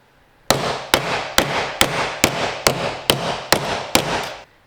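A body hammer strikes a metal car panel on a Porsche 911 widebody backdate, nine sharp evenly spaced blows about half a second apart, each ringing briefly, loud and close with no talk.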